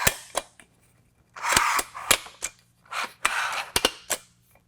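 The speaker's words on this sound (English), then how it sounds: "You'll hear it click. That's when it locks in place." The ladder rung of a RealTruck GoTent clicks as it locks in place: a series of sharp, close clicks and snaps in quick, uneven succession, with brief handling rustle between them.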